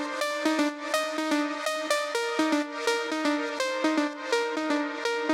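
A processed synth lead with a white noise layer sits in a full music mix, playing a rich, bright, repeating phrase with hissy texture and steady pulsing rhythm, loud and dense, with no talking.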